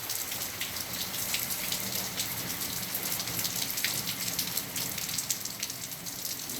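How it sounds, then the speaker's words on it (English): Steady rain falls outdoors and patters on surfaces as a child plays out in it, a dense, even hiss of drops that stays close and constant without pause and with no voices. "You like the rain?"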